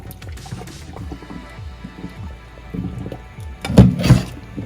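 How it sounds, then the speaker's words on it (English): Hot water is strained off boiled saltfish, with close, uneven pouring, trickling and dripping that ends in a louder gush of water near the finish. "I'm going to strain this out, the water, hot water"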